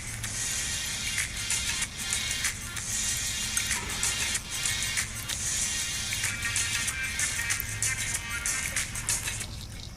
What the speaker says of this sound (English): We're going to pour some water on them.